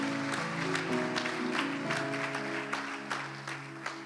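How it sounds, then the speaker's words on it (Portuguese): A church congregation applauds the Lord during a Brazilian Portuguese sermon, steady clapping running for the whole stretch over sustained organ or keyboard chords. "aplauda ao Senhor se você crê, dê a Ele glória, dê a Ele honra"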